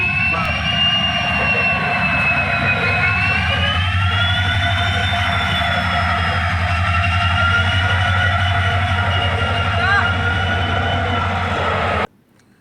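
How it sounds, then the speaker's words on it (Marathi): The Amravati–Pune passenger train departing rumbles steadily nearby with a low engine drone and a high whining tone, continuous and loud, ending abruptly. "अमरावती पुणे ट्रेन क्रमांक अकरा चारशे सहा या रेल्वेला आत्ता सुरुवात झाली आहे"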